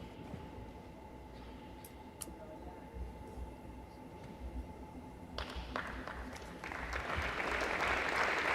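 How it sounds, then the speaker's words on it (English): Faint crowd applause and cheering at a padel tournament semifinal swell up toward the end, growing louder over a quiet murmuring background. "Crowd making some noise for Jimenez as he steps back on court"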